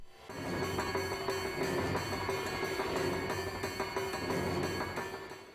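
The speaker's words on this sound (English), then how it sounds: "You might have already heard the killer's secret chase music," Secret chase music for Michael Myers, the Shape, in Dead by Daylight: a dense, droning layered score with a sustained tone, moderately loud and continuous throughout, with no voices.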